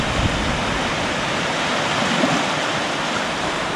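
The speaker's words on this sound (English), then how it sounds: "Filming the waves." Waves wash continuously onto a beach at Keppel Island as a steady broadband surf roar, close and fairly soft, with no distinct individual breakers and no voices.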